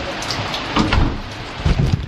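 Steady rain hisses outdoors with low rumbling gusts swelling and fading underneath.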